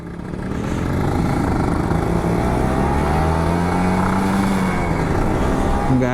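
A Kawasaki Ninja RR 150 two-stroke motorcycle engine runs close by after a full service, a steady loud buzzing idle rising slightly in pitch, with no voices over it.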